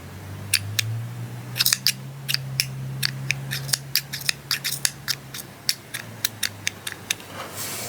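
Cheap cutters from an amigurumi kit snipping repeatedly at yarn, a run of sharp, close metallic clicks at an irregular rhythm over a low background hum, with no speech.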